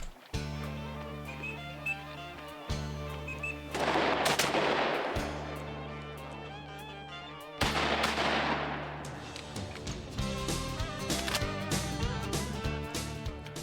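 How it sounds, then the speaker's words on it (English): Two loud shotgun blasts from a duck hunt in Lowndes County, Mississippi, ring out a few seconds apart, each with a long fading echo, over steady background music and no talking. "Y'all ladies doing some fine shooting."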